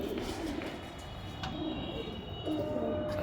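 Pigeons cooing in a loft, soft repeated low coos close by, with faint rumbling background noise and no talk.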